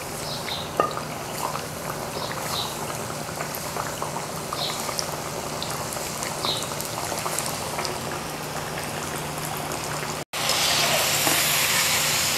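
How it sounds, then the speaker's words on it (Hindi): Bread drumsticks frying in hot oil give a steady, dense bubbling sizzle close by, continuous throughout with a brief dropout near the end before resuming louder. "इनको फ्राई कर लेते हैं।"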